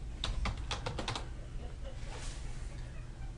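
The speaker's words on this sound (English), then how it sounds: "type in my password correctly." A computer keyboard being typed on to enter a password: a quick burst of crisp key clicks in the first second or so, then quiet room tone.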